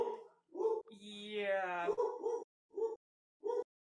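A small dog gives several short, sharp barks and yips in a steady, spaced rhythm, with one longer whining howl in the middle, close and fairly loud against a quiet room.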